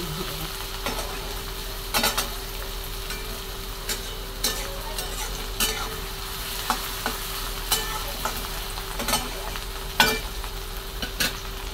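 Onion, tomato, garlic, chillies, cumin and mustard seeds frying in a pan, a steady sizzle with repeated spoon scrapes and taps as they are stirred, close and continuous.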